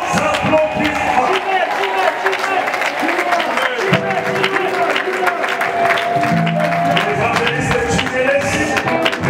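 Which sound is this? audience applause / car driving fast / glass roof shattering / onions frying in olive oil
audience applause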